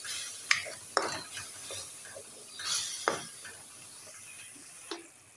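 Tomato and onion chutney frying on high heat, soft sizzling broken by a few sharp scrapes and clinks of a spoon on the pan, close but fairly quiet, no voices.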